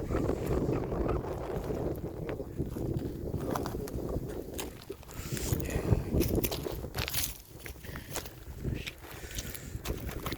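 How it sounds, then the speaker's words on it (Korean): Strong wind buffets the microphone by a river with a continuous rough rumble and gusty roar, close and loud, with occasional rustles and knocks mixed in. "바람 많이 붑니다"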